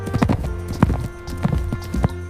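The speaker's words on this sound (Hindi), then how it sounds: "हॉर्स को हिंदी में घोड़ा कहते हैं। ये तेज दौड़ने की क्षमता के लिए मशहूर है" Horse hooves clip-clopping at a steady trotting rhythm, several sharp clear strikes in quick pairs, close and distinct against a quiet background.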